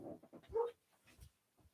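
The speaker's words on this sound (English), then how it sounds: "And Burley is, if you can hear him barking in the background, Burley is informing me, somebody's here" A dog pants and huffs nearby in a tiny house, short breathy bursts with a faint whimper, quiet and intermittent with no talking.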